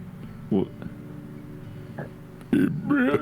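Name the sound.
burp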